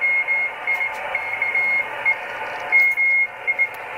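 Morse code tones from a ham radio signal beep in irregular dots and dashes, a steady pitched tone over faint radio hiss, clear and up close with no speech.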